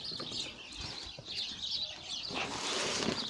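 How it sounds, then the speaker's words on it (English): Loud sparrows chirp from inside a massive hedge, a dense, continuous twittering chorus close by with a rustle of wings. "Next to a massive hedge full of extremely loud sparrows right now."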